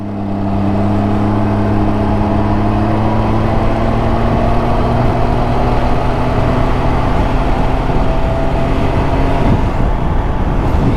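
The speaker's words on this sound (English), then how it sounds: "Okay, sport mode. It's idling at 850 RPM." A Can-Am Ryker with a CVT transmission idles in sport mode at about 850 RPM. Its engine gives a loud, steady drone with a smooth, even hum and no revving.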